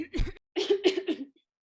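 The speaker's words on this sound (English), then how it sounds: "I feel the need to clear my throat like this." A short throat clearing: one rough grunt followed by a few gravelly voiced pulses, close and fairly loud, then silence.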